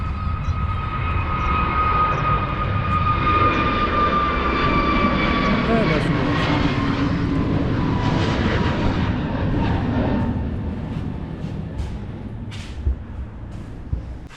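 An EasyJet airliner takes off at Manchester Airport, a loud sustained jet roar with whining engine tones that slowly fades toward the end, with voices nearby.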